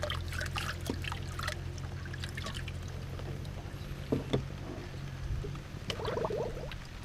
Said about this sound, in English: We're just going to dip just a little bit, wash any material that might be still in the sluice box.